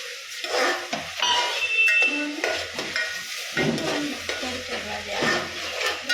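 Chopped green garlic sizzles and fries in a pan while being stirred, with steady crackling, scraping utensil sounds and occasional clinks against the pan, close and fairly loud throughout.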